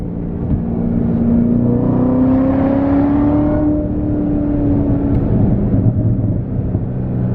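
A loud 2019 Corvette ZR1 engine rumbles and revs steadily through its exhaust, the pitch rising and falling, with no talking.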